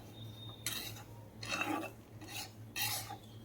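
Sesame seeds are stirred in a pan while making sesame and jaggery laddus, with four short, close scraping strokes over a faint low hum.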